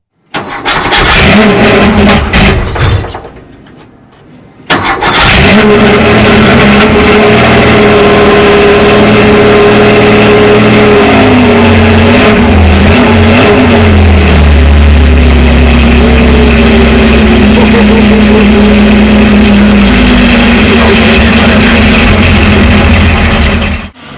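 A Porsche Carrera RS race car engine fires up and revs hard, loud and close, with a steady roar that climbs and settles through sustained high-revving passes after a brief quiet gap.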